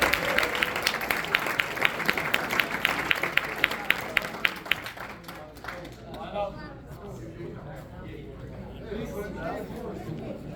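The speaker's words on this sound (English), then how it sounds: "Give a round of applause." A banquet crowd applauds the varsity basketball program, the 23-5 White Division champions, at a Sayreville Bombers team dinner, with brisk clapping that fades after about five seconds into chatter and voices talking around the room.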